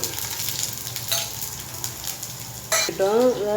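Small garlic cloves sizzling in hot oil with popped mustard seeds for karuvadu thokku, a continuous crackling fry with a few soft clinks and stirring scrapes, and a brief tonal squeal near the end.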